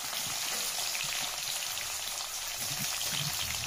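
Paneer pieces fry in a small amount of Saffola Active oil, giving a steady, dense sizzle and crackle that runs unbroken throughout at close range, with faint low clatter underneath and no talking.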